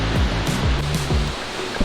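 Tall waterfall in New Zealand's North Island heard from a distance as a steady broadband rush with faint low thumps, probably footsteps.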